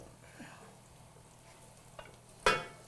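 Garam masala spice mix toasting in a pan for biryani rice, a soft dry rustle under a faint background, with a couple of sharp spoon scrapes and clinks near the end as it is stirred.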